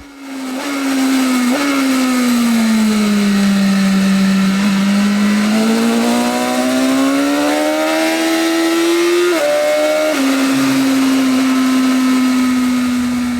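A BMW S1000RR motorcycle laps an SBR race track day circuit, its engine a loud, continuous onboard drone whose pitch swells and dips with throttle and jumps abruptly at a gear change.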